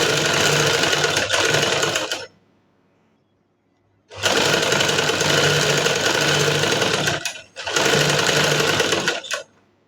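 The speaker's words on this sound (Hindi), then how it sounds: "अब हम इसको स्टिचिंग करेंगे। सबसे पहले हम अपने बाजू को लेस लगाएंगे।" An electric sewing machine stitches lace onto a frock sleeve in three loud, close, steady whirring runs, separated by brief silent pauses.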